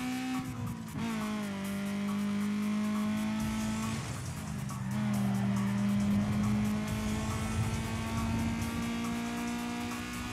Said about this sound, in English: That was the handbrake.